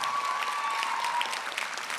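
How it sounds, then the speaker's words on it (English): High school graduation ceremony crowd applauds, a dense, steady burst of clapping from a large audience in a hall, with a faint tone running underneath. "give your mom and dad a round of applause for that."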